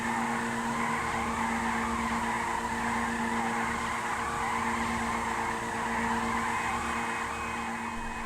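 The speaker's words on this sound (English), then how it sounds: "another thing this car's great for is donuts, obviously, because it's rear-wheel drive" A rear-wheel-drive car spinning donuts in GTA Online, its tires squealing and skidding in one long unbroken screech over a droning engine, loud and close throughout with no talking.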